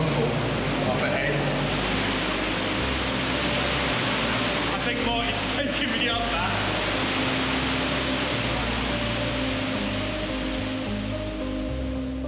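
Deep, steady roar of an underground river and waterfall inside a cold cave tunnel carved through rock, filling the space continuously, with someone speaking briefly over it.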